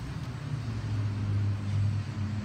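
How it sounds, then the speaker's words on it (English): Big old diesel trucks pass along a nearby road, giving a steady low rumble and drone that holds for the whole stretch, moderately loud and unbroken, with no talk over it. "don't know if you can hear those trucks."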